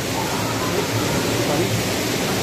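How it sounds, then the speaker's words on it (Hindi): Water falls steadily inside the Guchhupani caves near Dehradun, a dense continuous rushing wash with no breaks, close and loud. "ये गुफाएँ हैं और यहाँ से लगातार पानी गिर रहा है"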